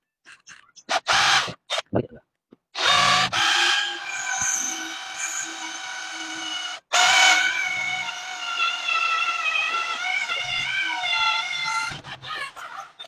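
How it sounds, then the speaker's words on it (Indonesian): A cordless Reaim multipurpose electric drill with a small bit bores into a wall in a few bursts, its motor whining loud and close with the pitch rising and wavering, and people talk between and over the runs. "Oke, kita bor di sini kan."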